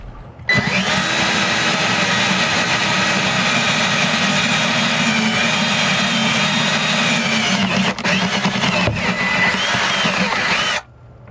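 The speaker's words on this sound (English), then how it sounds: "I'm drilling a hole from inside the boat into the engine compartment." A power drill bores a hole from inside a boat's hull into the engine compartment, a steady, loud whirring grind that runs for about ten seconds before stopping abruptly, with a brief dip in the middle.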